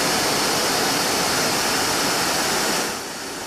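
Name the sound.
thermo cutter blade grooving elastomer strip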